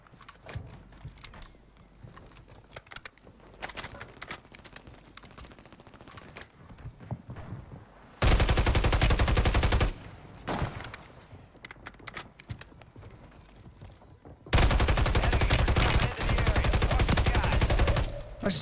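Bursts of SMG fire in the shooter game Warzone 3, two long loud sustained volleys that stand out sharply above quieter background game sounds.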